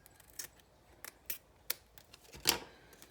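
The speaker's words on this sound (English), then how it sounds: "And we're going to trim this side." Scissors trim the edge of paper in a card-making project, giving a few sharp, separate snips with pauses between them and a louder cut near the end, close and otherwise quiet.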